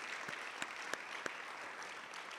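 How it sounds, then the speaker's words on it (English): Faint, distant applause from the audience at the KZN Youth Business Awards 2023 ceremony, a soft steady patter with a few sharper isolated claps standing out. "A round of applause."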